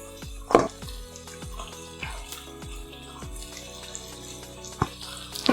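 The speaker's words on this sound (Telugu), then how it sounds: "ఇప్పుడు అంతా కలిసేలా కలుపుకోవాలి." Cooked basmati rice stirred into a pan with cashews and paneer, a few scraping spoon strokes against the pan with light sizzling, a louder scrape near the start and again at the end.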